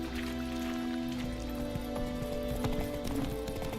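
Geralt's horse Roach trotting in the Witcher 3 video game, a steady rhythm of close hoof clip-clops laid over a constant droning music and ambience bed.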